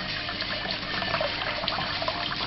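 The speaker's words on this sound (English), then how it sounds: "And then you can see the water flowing." Water flows steadily through the cooling hoses of an 800 mm, 2.5-inch reflux still condenser setup, a constant close rushing and trickling with no pauses.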